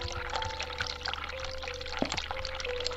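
Water runs steadily from a tap in the video game The Cat Lady, a soft continuous pouring sound with a faint tonal hum beneath it.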